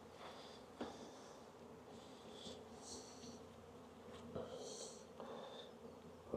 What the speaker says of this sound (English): I've got the hive open